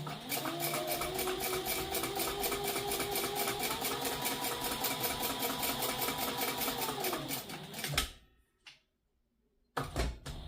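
A sewing machine stitches down the center seams of a satchel handbag, running as a loud, steady mechanical whir for about eight seconds, stopping briefly, then starting up again.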